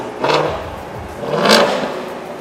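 A Corvette ZR1 engine revs twice in quick bursts at a car auction, rising and falling with a whirring roar, fairly close.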